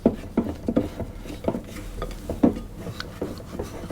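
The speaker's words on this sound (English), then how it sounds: "I'm just going to scrape the bottom of the bowl" Sticky cookie dough being scraped from the bottom of a mixing bowl, a close series of irregular scraping and tapping strokes, rhythmic and moderately loud with no talking.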